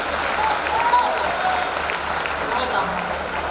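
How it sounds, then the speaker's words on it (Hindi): An audience at a Hindi kavi sammelan poetry gathering breaks into brisk, steady clapping that fills the hall, with a voice speaking over the applause. "तो एक बार ताली बजा दीजिए।"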